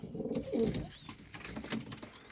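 Pigeons coo softly in a loft with yellow and young birds nesting in boxes, a few low, throaty coos clustered early, then fainter calls over quiet background.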